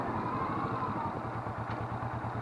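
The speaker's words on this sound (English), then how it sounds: "Engine brake." A Kawasaki Vulcan S motorcycle engine burbles and pops steadily under engine braking as it slows, a low throbbing rumble close by with no one speaking.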